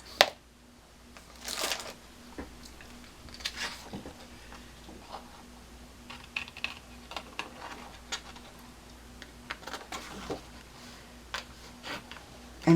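Scissors cut a random shape from paper for a Paddington Bear coat card, faint snips and crisp rustles coming in irregular bursts over a quiet background, with no talk.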